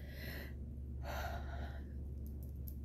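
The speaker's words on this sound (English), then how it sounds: "I had to yawn." A person yawns nearby, a breathy inhale swelling into a louder open-mouthed exhale in the middle before trailing off, with no speech.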